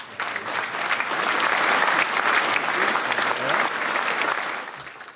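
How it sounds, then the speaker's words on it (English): Audience at an award ceremony applauds steadily for about five seconds, a full, dense clapping that swells in quickly, holds, and tapers near the end, with faint murmurs mixed in. "please, a round of applause"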